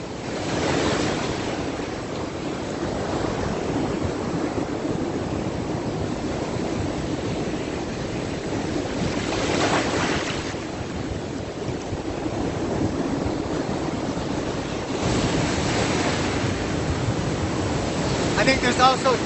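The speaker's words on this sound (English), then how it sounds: "the waves." At Back Beach in Vung Tau, Vietnam, ocean waves break on the shore in a steady, broadband wash, with louder surges recurring every few seconds and some wind noise on the microphone.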